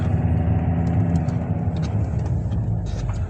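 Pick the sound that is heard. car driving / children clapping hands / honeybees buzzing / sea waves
car driving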